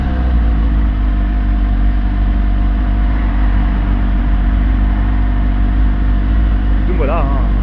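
A Suzuki GSX-S750 motorcycle from 2017 with its stock exhaust idles steadily and evenly nearby, a loud continuous low rumble, with a brief higher whine near the end.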